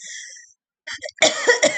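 A person with a cold coughs twice at close range, a short burst after a brief pause, with a faint sound before it.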